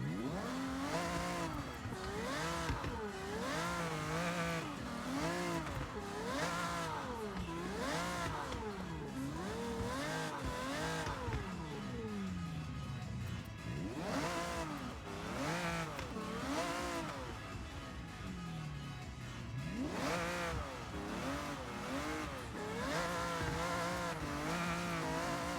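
A video game car engine revs repeatedly, rising and falling in pitch with a throaty stock exhaust note, cycling through gears over a sustained stretch.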